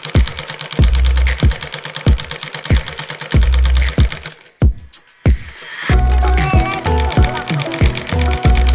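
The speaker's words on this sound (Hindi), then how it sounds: "इस तरह अच्छे से सिलाई करना पड़ता है क्योंकि मीडियल का सिलाई जो है ना वही मेन सिलाई होता है" An electric sewing machine stitching a mekhela garment, heard as loud, even mechanical thumps in a regular rhythm. It pauses briefly, then restarts with a faster, denser whir of stitching close up.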